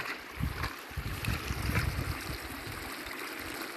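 Floodwater rushes steadily down a stream toward flooded rice fields, a close, continuous gushing and splashing flow with no talk.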